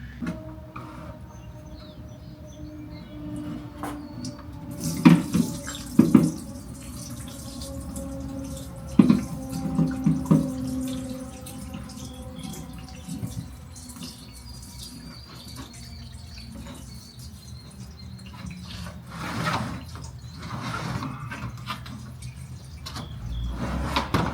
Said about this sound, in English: this oil is gonna start dribbling out of here. So get your oil pan ready and go ahead and remove this and start letting it drain